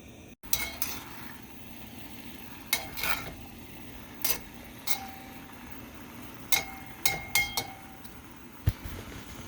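Food sizzles in its own fat inside a tall, slender cast iron Dutch oven, a soft continuous fry hiss broken by sharp metallic clinks and scrapes of a utensil against the pot at irregular intervals.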